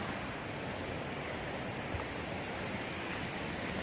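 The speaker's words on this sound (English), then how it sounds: "so I have to cross the Hubbard Brook" Hubbard Brook runs in a soft, steady, distant wash of flowing water, faint and unbroken with no voices.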